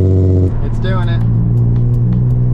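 A Nissan 350Z engine hums steadily under load, then briefly stumbles and cuts out for about half a second before carrying on, with people talking over it.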